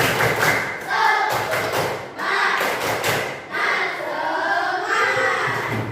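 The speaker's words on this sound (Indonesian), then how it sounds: "Tepuk semangat." A sixth-grade class in a Tasikmalaya elementary school performs a rhythmic spirit clap, hands striking together in grouped patterns with children chanting along.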